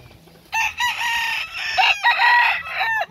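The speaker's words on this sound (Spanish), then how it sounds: "Miren qué bien este gallo" A fighting rooster crows loudly and close, two long drawn-out cock-a-doodle-doo calls in quick succession with a brief pause between, standing alone without talk.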